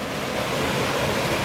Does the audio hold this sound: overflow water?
yes